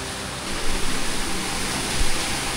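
Stream flowing near a cave temple in the Konkan region, a steady close rushing hiss of water running alone without voices.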